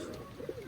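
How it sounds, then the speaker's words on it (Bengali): A male pigeon coos from a breeding loft of old bloodline birds, with a soft, low, rolling call swelling briefly near the middle of a short, quiet moment. "এই যে আমার চট নট দেখতেছেন, এই যে ডাকতেছেন"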